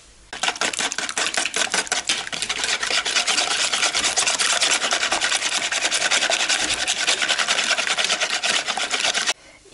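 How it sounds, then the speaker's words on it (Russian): A whisk beats quail eggs, sugar and salt in a bowl with fast, steady, scratchy strokes that run close and unbroken for several seconds, with no talking. "И сейчас я буду взбивать это все венчиком."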